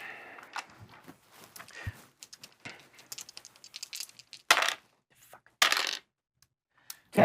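Dice rolled during a Battletech tabletop RPG initiative roll, a run of close clattering, tumbling rattles and knocks, with louder bursts near the middle and end, no talking.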